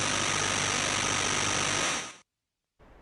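Dense, steady burst of noise and buzzing from an AY-3-8910 sound chip imitating a jackhammer, loud and continuous for about two seconds before cutting off, with a softer noise resuming briefly afterward.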